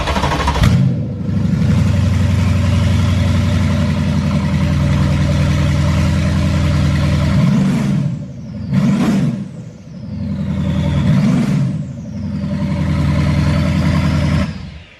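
A Mercedes CLS 63 AMG W218 engine fired up with downpipes fitted but no mid pipes, an open, loud raspy idle that roars through several sharp throttle blips with crackling decays, close and alone.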